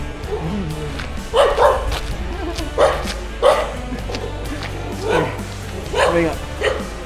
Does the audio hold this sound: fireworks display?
no